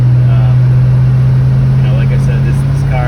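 A Pontiac GTO hardtop with Tri-Power and a 4-speed rolling down the road, its loud, even low-pitched engine hum and road noise constant throughout while someone speaks on top.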